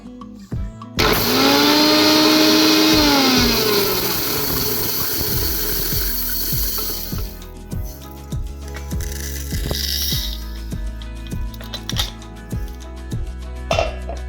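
Whole mustard seeds being coarsely crushed in an electric mixer-grinder for a sweet-and-sour small amla pickle: a loud, steady motor whir for about six seconds, then lighter rattling and tapping as the jar is handled.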